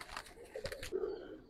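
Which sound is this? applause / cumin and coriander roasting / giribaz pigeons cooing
giribaz pigeons cooing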